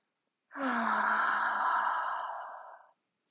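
A single long, breathy exhale during a seated yoga twist, close and soft, rising quickly then fading over about two seconds with no talking.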